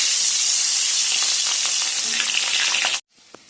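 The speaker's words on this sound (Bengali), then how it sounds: "এখন মাছগুলো এখানে ভেজে নেব।" Fish frying in hot oil, a loud, dense, close sizzle that fills the first three seconds and then cuts off abruptly, leaving quiet with a faint click.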